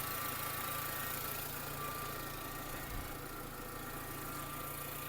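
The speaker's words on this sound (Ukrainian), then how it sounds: "робота двигуна" A Dacia Logan 1.6 MPI engine idles steadily with a low, even rumble and faint vibration, close by and uninterrupted.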